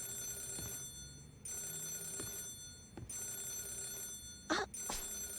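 A telephone rings in Yakuza 0 on Nakamiki Street: a series of short electronic rings repeats at a steady pace over constant game background music, with one louder burst near the end.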